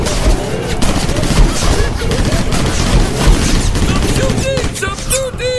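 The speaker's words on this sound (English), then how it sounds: "Stop shooting!" Rapid gunfire crackles in a dense, continuous volley at close range, loud and unbroken throughout, with voices shouting faintly beneath the shooting.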